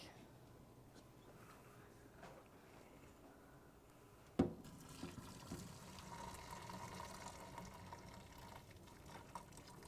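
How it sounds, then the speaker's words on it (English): Hot cooking water from a pot poured straight into a kitchen sink, a quiet steady stream that turns into a louder gushing splash partway through, heard alone with no talking. "I like to save on dirty dishes, so I just pour it straight into the sink."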